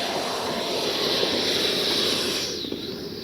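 A Freewing Avanti S 80mm electric ducted-fan RC jet straining to take off from thick grass with its flaps down, its fan a steady high whine under broad hiss and rumble that fades slightly at the end.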